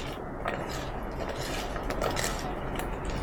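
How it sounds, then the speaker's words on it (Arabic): Potatoes stirred with olive oil in a pan make soft, quiet scraping and light clinking of a utensil against metal, irregular and close, with no talking. "وهنا هنحط شوية زيت زيتون وهقلب الكلام ده كويس"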